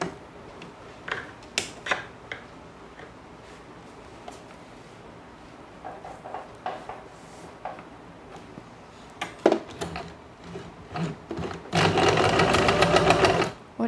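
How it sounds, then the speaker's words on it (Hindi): A sewing machine stitches an 8-inch elastic strip onto a fabric face mask. It runs in one loud, steady burst near the end, after scattered clicks and handling sounds. "इसको हम ऐसे सिलाई लगाएंगे इस पे ऐसे रख के।"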